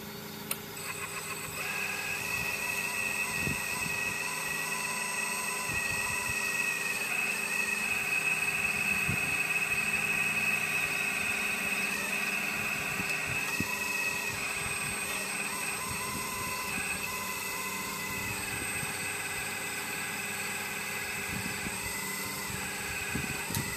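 A 1/12 scale Earth Digger 4200XL hydraulic excavator runs on its tracks, climbing and swinging its boom. It gives a steady, close electric-hydraulic whine with shifting pump tones and occasional knocks throughout.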